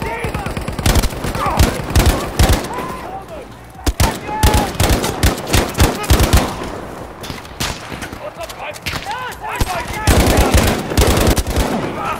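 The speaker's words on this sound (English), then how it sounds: "Or I could always mow them down with the Lewis gun." Lewis gun machine gun fire in the video game Battlefield V, with rapid, loud, sustained bursts of automatic gunshots mixed with other battlefield shots, continuing almost without pause throughout.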